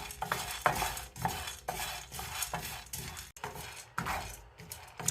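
Lentils dry-roasting in a pan for nutritious laddoos are stirred in a steady rhythm of scraping, rustling strokes, close up at moderate level with faint sizzle.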